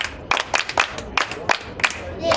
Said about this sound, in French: Le bravo, on applaudit.